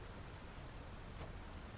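Soft, steady rainfall from the video game Hades II, a faint continuous hiss of falling drops with no voices.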